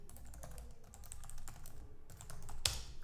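Steady patter of typing on a computer keyboard, quiet and close, with irregular key clicks and one sharper keystroke near the end, no voices.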